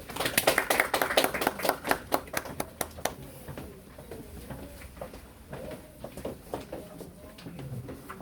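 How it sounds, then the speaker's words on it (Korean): An audience at a school admissions briefing claps to welcome a lecturer: a dense burst of applause that thins into scattered, sparse claps and dies out over several seconds. "자, 박수로 맞이해 주시죠"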